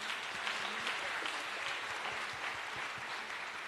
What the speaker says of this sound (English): let's give him a warm welcome and a warm round of applause